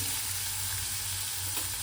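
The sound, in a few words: onions frying in oil in a kadhai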